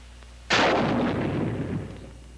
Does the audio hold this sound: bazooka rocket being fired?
yes